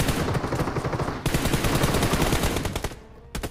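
Rapid automatic gunfire in PUBG Mobile rattles out in a dense, loud, unbroken burst for about three seconds, then cuts out briefly before a couple of final shots.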